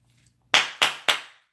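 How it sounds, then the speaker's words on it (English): Three sharp, evenly spaced claps ring out in unison from a football team in the Buccaneers locker room, loud and close, with a short reverberant tail after each. "Bucs locker clap"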